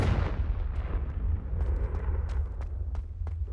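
A Confringo fire blast spell exploding in Hogwarts Legacy, a heavy booming burst with rumbling low end, followed by a few sharp crackling pops as it fades, loud and close.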